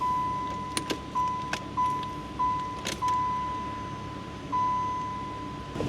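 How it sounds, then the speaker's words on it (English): Ignition key of a 1995 Pontiac Firehawk cycled on and off several times to prime the fuel pump: a steady electronic chime tone runs throughout, broken by a series of sharp nearby clicks and short whirring bursts. "So I'm gonna cycle the key on and off a few times, just so we can build pressure in the fuel system."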